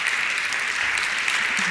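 A conference audience applauding at the close of a session, a brief burst of steady, dense clapping from a room full of people with no break.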